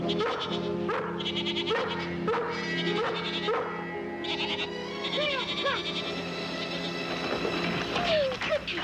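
Goats being herded back into a farm corral in a 1962 television drama bleat over and over in wavering cries, close and fairly loud, over a steady low background hum.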